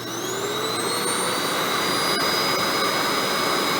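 Hoover WindTunnel canister vacuum cleaner runs close by with a loud, steady motor whine and rushing airflow, its pitch rising slightly as it spins up, with no talking.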